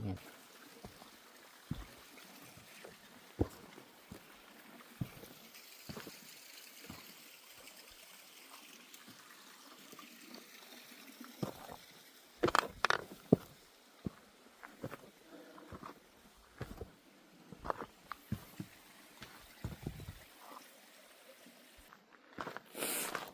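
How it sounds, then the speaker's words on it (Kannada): A small river flows beside a trekking trail near El Chaltén in Argentina, heard as a soft, steady trickle and burble of water, with intermittent footsteps and scattered louder knocks on top. "ಚಿಕ್ಕ ನದಿ ಹರಿತಾ ಇದೆ."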